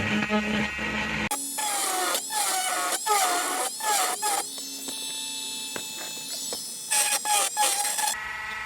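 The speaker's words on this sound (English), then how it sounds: "I'm gonna use this little grinding tip here" A small rotary grinding tip works the edges of a part during a Rav4 Prime inverter remote switch install, a whining high-pitched tool in repeated short bursts and pitch shifts as it bites and lets off, heard close.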